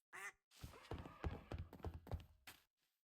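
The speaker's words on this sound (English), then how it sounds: "oh my god, a duck." A duck quacks in a faint, close series of raspy bursts, one isolated call followed by a run of rapid quacks with brief gaps.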